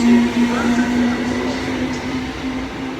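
Train standing at a railway platform where a Stansted Express service to London is due, with a loud steady hum and a sustained tonal drone throughout, and a station announcement voice speaking over it.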